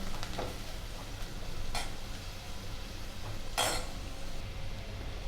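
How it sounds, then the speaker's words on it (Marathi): Chopped onion sautéing in a pan for a Marathi gilkyachi bhaji (ridge gourd curry): a soft, low background sizzle with a few brief, sharp utensil clinks and scrapes against the pan. "कांदा थोडा परतून घेऊ आपण थोडासा ब्राऊन होस तर थोडासा लाल होऊन द्यायचा"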